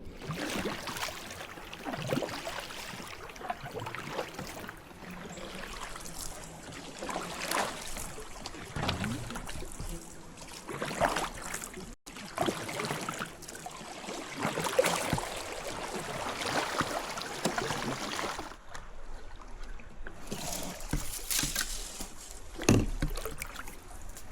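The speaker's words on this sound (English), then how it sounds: "Not gonna lie, this is tough paddling right here." Paddle strokes pull a boat up a narrow creek against a strong current near North Orlando, with repeated splashing dips and steady water noise close by, no talking.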